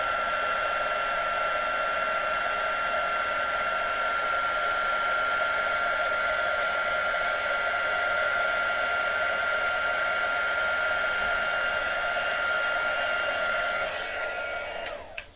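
An embossing heat tool blows hot air steadily and loudly at close range, a constant whooshing hum with a high whine that cuts off abruptly at the end.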